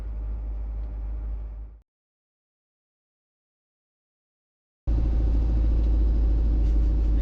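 A camper van drives through the Bolivian border crossing, heard from inside as a steady low engine rumble and road noise that cuts out to silence partway through, then returns louder.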